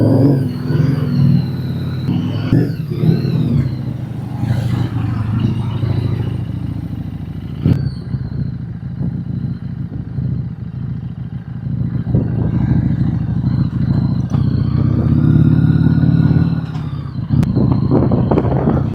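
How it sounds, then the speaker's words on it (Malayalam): Motorbike on a ride, close engine drone with rising and falling revs, wind buffeting and occasional rattles and clatter over the steady road noise. "നമുക്ക് ജസ്റ്റ് ബൈക്ക് എടുത്തേ കുറച്ച് എവിടെയെങ്കിലൊക്കെ ഒന്ന് കറങ്ങിയിട്ട് വരാം."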